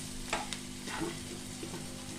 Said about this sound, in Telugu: చూడండి, ఫ్రై అయిపోయింది ఉల్లిపాయ